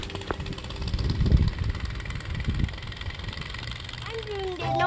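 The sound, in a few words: child imitating a motorcycle engine noise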